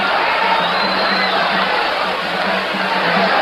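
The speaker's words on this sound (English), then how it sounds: "The crowd picks up" Crowd noise rising at a boxing match between Alexis Arguello and Alfredo Escalera, a dense steady roar of many voices filling the arena, loud and continuous without a break.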